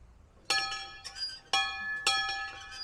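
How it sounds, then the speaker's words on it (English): Bell rung at the Sundre and District Museum, a 2012 bell: three or four bright, metallic clangs struck with enthusiasm at about half-second to one-second intervals, each ringing on with shimmering overtones, close and clear. "I think you're allowed to ring the bell"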